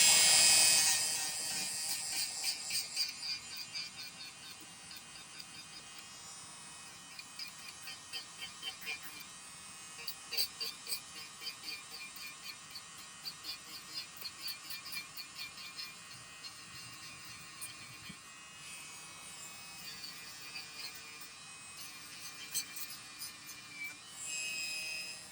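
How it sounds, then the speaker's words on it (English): A silicone abrasive knife-edge wheel polishing a forged silver ring, a high whirring buzz with rhythmic rubbing pulses as the ring is pressed against the spinning wheel, steady and close. "This is a silicone abrasive knife edge white wheel."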